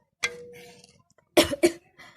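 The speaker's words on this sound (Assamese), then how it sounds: "মোৰ কাহ লাগি আছে পূৰা" A single cough rings out first, followed a moment later by a quick pair of harsher coughs, close and loud against near silence.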